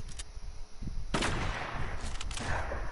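Gunfire in an online shooter video game: a quiet lead-in with a soft pop, then a sharp loud shot followed by a rattling burst of further shots and crackling echoes, with no talk during it.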